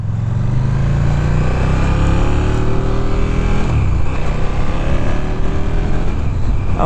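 A 2015 KTM 1290 Super Duke R motorcycle being ridden, its engine droning loud and steady with rising and falling pitch as it accelerates, heard close along with wind rush.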